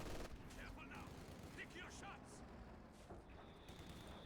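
Mortar fire and battle sounds from the strategy video game Company of Heroes 2. Muffled booms and scattered gunfire crackle continuously at a fairly low level, with some higher chirping game sounds mixed in.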